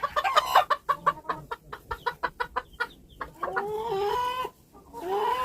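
A bantam rooster clucks in a quick run of sharp, close calls, then lets out a longer, drawn-out crowing-like cry, with another starting at the end.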